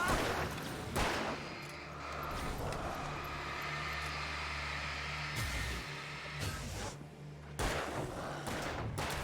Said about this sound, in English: Shoot the one that's next to you, Buster.